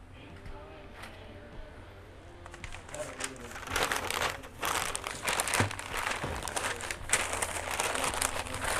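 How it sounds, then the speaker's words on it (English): Butcher paper crinkling and crumpling as it is wrapped tightly around a barbecued chuck roast, close and uneven, growing louder and busier midway, with occasional handling thumps. "we're gonna go ahead and wrap this in this herb butcher paper"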